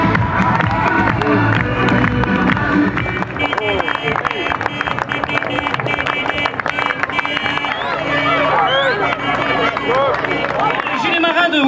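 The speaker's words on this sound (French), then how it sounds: "On les applaudit." A carnival crowd cheers and shouts loudly and continuously, a busy mix of voices, clapping and children's cries throughout.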